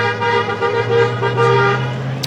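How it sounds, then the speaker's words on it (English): Car horns toot near a street protest at the Utah State Capitol, sustained honking layered over steady traffic rumble with a brief sharper blast near the end. "I'm getting a little bit of honks from people."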